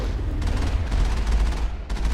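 The Mako vehicle's turret firing in Mass Effect, a series of rapid booming shots in quick bursts over a heavy low rumble, loud and close.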